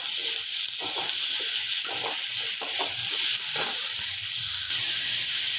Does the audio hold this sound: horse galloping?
no